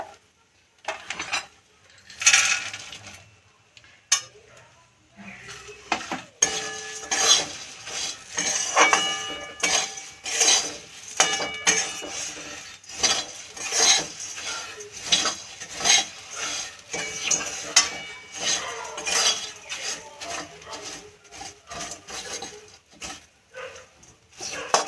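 Roasted peanuts are stirred into puffed rice in a bowl for a snack, with bursts of clinking spoon-on-bowl knocks and dry rustling that come in uneven waves and pause between stirs.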